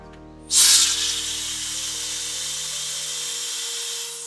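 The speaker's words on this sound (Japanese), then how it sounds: "このブロワーを使って、試してみたいと思います" A blower starts abruptly behind a new window frame on a DIY shed, testing for storm draughts, and keeps blowing a loud, steady rush of air, a broad hiss that holds for several seconds over a low background hum.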